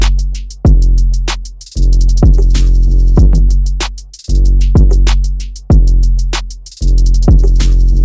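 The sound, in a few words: full drum pattern of a synth beat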